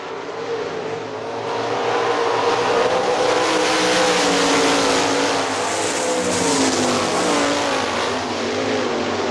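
Sprint cars race on a dirt oval at Hartford Speedway Park, engines roaring loudly and steadily with a broad, continuous drone that swells slightly as the pack passes, with no talking.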